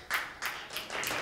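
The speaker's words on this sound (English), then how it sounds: "I thank you for applauding" Audience applause in brief bursts of clapping, three or four short swells within about a second, fairly faint.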